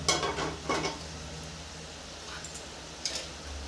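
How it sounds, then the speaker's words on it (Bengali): Water boils hard in a pot on high heat before hilsa fish and eggplant go in, giving a steady close bubbling hiss with a few clinks early on. "জলটা 1 মিনিট ফুটিয়ে নিব, একদম হাই আছে।"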